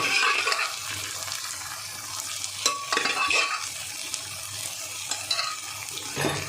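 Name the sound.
stirring egg tadka in a pan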